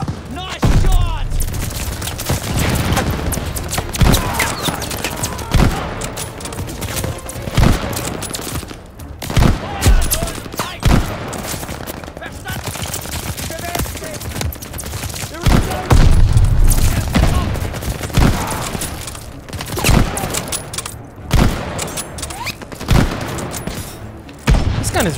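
Rapid gunfire and booming blasts from a World War II shooter battle at El Alamein in Call of Duty: Vanguard, dense bursts and thuds running throughout with voices calling out now and then.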